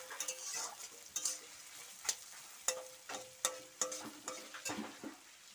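A spoon stirs meat browning in a pan, with a soft steady sizzle under repeated sharp scraping and clinking strokes, close and fairly quiet.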